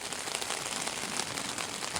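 Heavy rain falls steadily on an island camp beside a Scottish castle. It is a dense, even hiss of drops on surfaces, close and continuous, with no voices.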